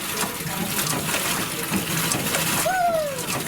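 Water splashes and trickles steadily into a steam engine at a museum, a continuous wet wash with faint talk nearby.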